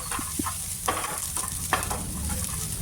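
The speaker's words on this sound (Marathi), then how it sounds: "याला थोडंसं मिक्स करून घ्यायचं थोडासा लाल कलर येईपर्यंत" Coconut, ginger and coriander paste sautés in a pan with a continuous low sizzle, broken by soft scraping strokes of a stirring spoon at an irregular pace, close and moderately loud.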